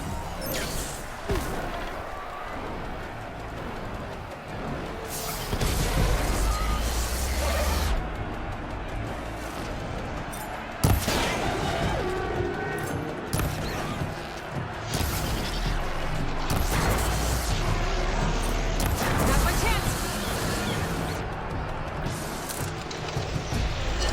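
A storm cannon in Horizon Forbidden West fires repeated heavy blasts, crashing impacts and mechanical clatter in loud bursts that recur through about twenty-four seconds of intense combat.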